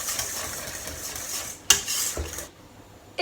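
A spatula scrapes and clinks against a pan while a polenta and spinach mixture with nutmeg is stirred, a few short knocks and scrapes at close range.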